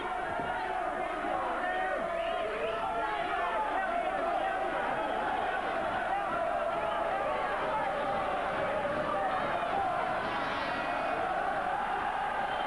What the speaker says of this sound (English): Listen to this Sheffield crowd try to lift Ryan Rhodes in the second half of this absorbing contest.